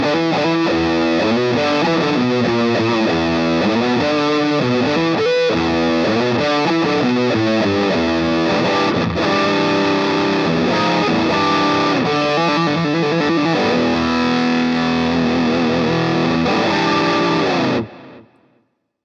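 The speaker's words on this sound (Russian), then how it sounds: "Вернемся в первую секцию и повесим какой-нибудь перегруз или фуз." An electric guitar plays a continuous, loud riff through a heavily distorted fuzz effect on a Peavey Vypyr X2 combo amp, then cuts off abruptly near the end. No talking is heard.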